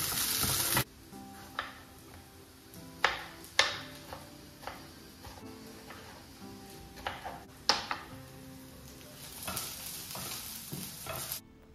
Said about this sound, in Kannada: ಇನ್ನೊಂದು ಕಡೆ ಇಲ್ಲಿ ಪಾನಲ್ಲಿ ಆಯಿಲು ಮತ್ತು ಆನಿಯನ್ ಮತ್ತು ಕರಿಬೇವನ್ನ ಹಾಕ್ಕೊಂಡು ಚೆನ್ನಾಗಿ ಬಾಡಿಸ್ಕೊಬೇಕು